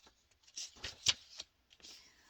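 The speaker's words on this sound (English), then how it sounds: "Spirit wants me to shuffle through these cards, and let me just do that one moment." Deck of cards being shuffled by hand during a tarot-style reading, a few quick riffling bursts with short pauses between, fairly close and moderately loud, with no talking.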